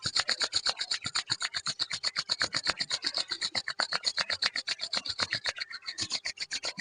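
Palms rubbed briskly together to warm the hands in winter, a fast, even rasping swish repeating many times without pause, close and steady throughout.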